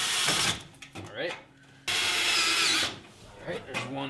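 A power drill whirs in two short bursts driving screws into metal studs, the second longer and louder, with quieter clattering and mechanical sounds between.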